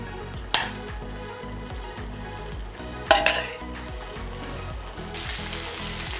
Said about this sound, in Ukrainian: Ось так викладаємо і смажимо.